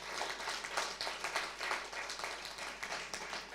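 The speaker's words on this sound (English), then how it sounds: "I would also like us to really clap hard for our facilitators from day one up to the day last." An audience claps hard for the facilitators at a gender and climate justice event at COP27, a dense burst of many hands applauding together at moderate distance.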